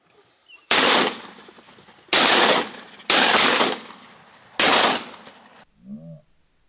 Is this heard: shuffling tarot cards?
no